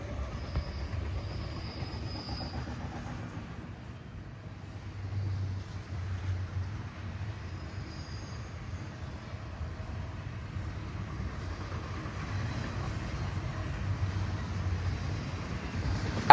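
An eastbound intermodal freight train with a Santa Fe unit trailing second rolls past, a steady low rumble of rail cars with faint wheel squeal and clatter, sustained at a moderate distance without talk.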